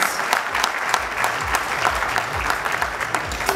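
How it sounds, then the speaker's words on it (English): A crowd at a condom product launch breaks into loud, sustained applause, a dense continuous clapping with a low rhythmic musical beat pulsing underneath. "So a huge round of applause for Mr."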